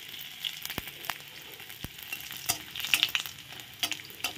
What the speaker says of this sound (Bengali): রসুনটা ভেজে নিচ্ছি।